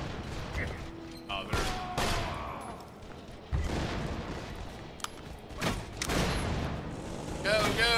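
Gunfire aimed at the player in the video game Borderlands 2 comes as scattered bursts and sharp cracks mixed with booms and mechanical clatter, with a brief spoken exclamation.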